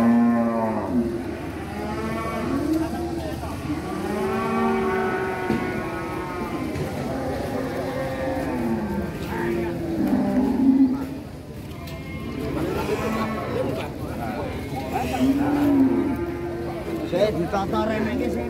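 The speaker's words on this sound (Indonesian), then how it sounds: "Sapi ini ngamuk habis." An enraged cow that has just come down from a truck moos repeatedly in long, loud, drawn-out calls, close by, over steady crowd noise and people talking.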